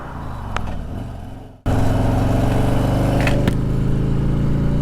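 A Harley-Davidson Electra Glide Standard bagger motorcycle gives a brief quieter rumble, then a loud, steady, deep engine drone with no talk over it.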